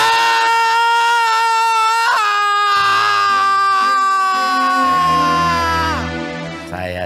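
A person in an Indonesian drama lets out a long, loud, sustained scream that holds steady for about seven seconds and trails off at the end.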